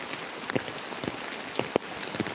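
Monsoon rain falling again outdoors, heard as scattered, irregular droplet taps and patters over a soft hiss, close by and fairly quiet.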